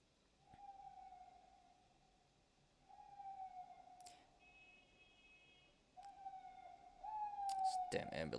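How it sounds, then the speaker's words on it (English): An ambulance siren passing outside wails in a steady tone that cuts in and out several times, growing louder toward the end, over a quiet room with some background voice. "damn ambulance. At least it's interrupting now."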